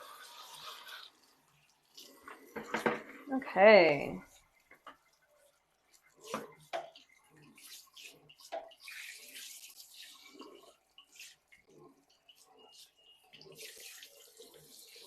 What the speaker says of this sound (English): Just gonna rinse this bad boy out. Sorry, that's probably pretty loud